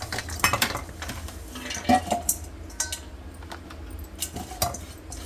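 Mango pieces being mixed by ladle into a water-based mango pickle with fenugreek and cooled oil, heard as scattered metallic clinks and scrapes against the vessel with quiet gaps, no talk.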